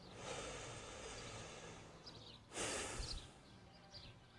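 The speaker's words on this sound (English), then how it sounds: "put all your attention there, to the sound of your breath through your nose" A person breathes audibly through the nose during a breathing exercise, with soft airy inhales and exhales and one stronger, louder nasal rush midway, close and quiet with no talking.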